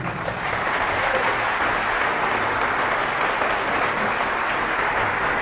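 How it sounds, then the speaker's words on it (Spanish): A crowd at a religious debate applauds a speaker with loud, continuous, dense clapping that holds steady for several seconds. "Un aplauso para él."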